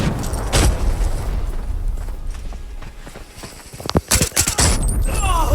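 Several sharp, loud bursts and booms from an explosion in the game Arena Breakout, packed into a quick cluster near the end after a stretch of noisy rumbling.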